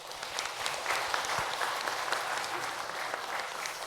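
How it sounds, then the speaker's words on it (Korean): A church congregation claps in a steady, dense round of applause that holds at an even level throughout, with no speech over it. "우리 인사할 때 격려의 박수 보내주시기 바랍니다."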